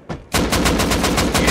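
Automatic gunfire from the survival game Rust rattles off in a rapid, evenly spaced burst of about a dozen loud, close shots after a single brief opening report.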